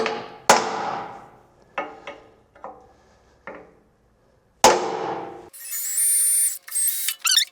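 Sharp metallic hammer blows, about five spaced strikes driving a 7/16 inch punch into steel on a heavy duty tractor bucket, each ringing out briefly, followed by a steady mechanical whir.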